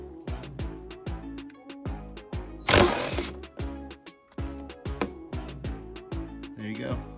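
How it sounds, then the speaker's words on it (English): A right-angle power tool spins out 3/16 hex sunroof bolts on a rusted Acura RSX, giving short repeated whirring bursts close by, with one louder harsh burst in the middle and clicks between. "we have our right angle tool connected to the sunroof bolts, which are a 3/16 hex, and we're just gonna back it out"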